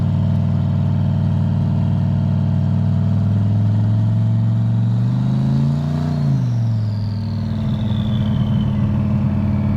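A pickup truck's engine drones steadily on a foggy, rainy test drive, then revs up and shifts near the six-second mark before settling back to a constant loud hum.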